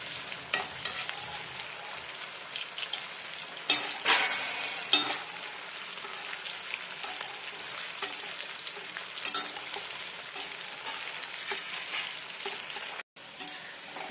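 Potatoes frying in hot oil while a ladle gently stirs them, a steady soft sizzle with occasional scraping stirs, close and fairly quiet, no talking.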